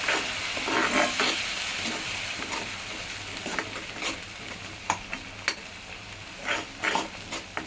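Blended tomato puree poured into a hot tempering with a pinch of turmeric for drumstick aamti, setting off a loud sizzle that crackles and settles into steady frying with a few sharp pops and clinks, no talk.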